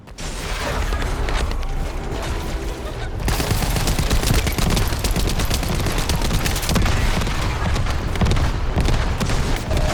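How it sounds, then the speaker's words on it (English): Heavy enemy artillery and gunfire in The First Descendant video game, a loud, dense barrage of booms and rapid shots that runs continuously throughout, swelling after the first few seconds. "Avoid the enemy's artillery fire and focus on the target."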